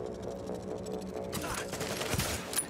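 Gunfire in the video game The Division at Times Square: muffled shots at first, then a burst of louder, crackling rapid fire and scattered single shots.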